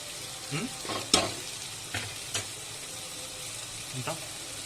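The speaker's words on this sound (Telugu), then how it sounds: "టమాటా ముక్కలు ఉల్లిపాయ అంతా వేగిపోయింది కదా" Tomato and onion frying in a pan for a coconut kofta curry make a low, steady sizzle, broken by a few scrapes and clinks of stirring.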